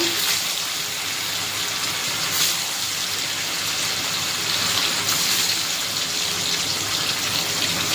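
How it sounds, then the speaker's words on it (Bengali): Paneer pieces frying in oil in a pan, with a steady, dense crackling sizzle that holds fairly loud and unbroken throughout, no one speaking. "এবার পনিরের টুকরোগুলো ভেজে নেব"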